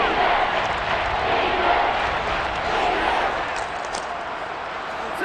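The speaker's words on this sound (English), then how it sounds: "the crowd getting into it as we come up on a big 3rd down" Stadium crowd roaring in the Madden NFL 23 football video game ahead of a big third down, a broad steady wash of cheering noise that holds loud throughout with slight swells, heard alone without commentary.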